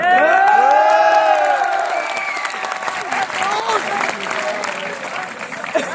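A hall full of students claps loudly at a Teachers' Day event, applause swelling then tapering, with a voice speaking Hindi over the clapping throughout.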